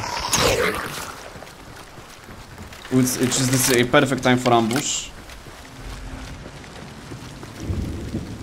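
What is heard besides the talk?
heavy rain in video game Hunt: Showdown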